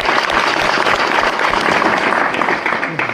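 Satsang audience at a Hindu religious discourse clapping harder on request, a dense, loud, steady wash of many hands applauding together without pause.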